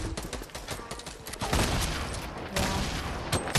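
Rapid bursts of automatic gunfire in a Fortnite battle royale match, dense and continuous, with sharper volleys near the middle and end, heard alone without talk.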